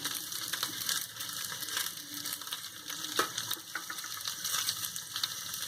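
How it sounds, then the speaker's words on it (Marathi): Sliced onion with garlic and ginger roasts in a pan, crackling and popping quietly in an irregular, close patter without any talk. "तर हा कांदा आपल्याला चांगला लालसर होईपर्यंत भाजायचा. त्यातच लसूण टाकले मी आणि हे आलं."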